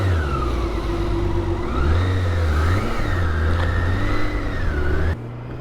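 A BMW K1600GT motorcycle engine pulls hard on an open Autobahn straight, its steady, loud drone rising and falling in pitch through the gears before easing off near the end.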